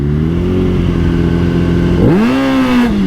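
A 2022 Suzuki Hayabusa motorcycle idles loud and close at a quarter-mile drag strip, then the engine revs sharply upward and holds a high, strained note as it launches.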